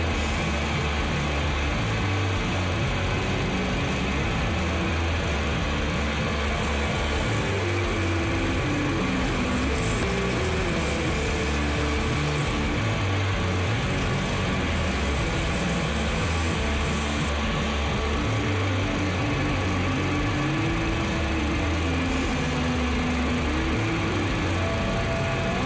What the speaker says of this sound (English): So now we'll just clean it up with some sandpaper. And then with some Scotch-Brite.